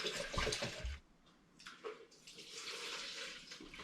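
Distilled 90% spirit is poured from a still into big jugs, giving a close, splashing liquid stream that pauses briefly and then resumes more softly.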